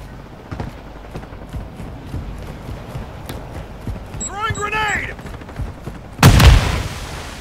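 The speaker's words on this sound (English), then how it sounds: "What are you guys shooting at?" Gunfire in Call of Duty MW2 Warzone DMZ, a scatter of sharp shots through the background with a loud close blast near the end, while players talk over it.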